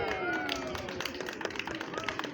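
A small live-show audience gives thin, scattered clapping, sparse claps over a droning tonal background with a voice talking faintly.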